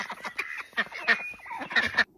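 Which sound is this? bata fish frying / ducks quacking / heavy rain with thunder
ducks quacking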